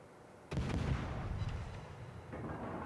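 Warship guns fire in World of Warships, a deep booming blast that rolls out into a long low rumble, loud and alone with no talk.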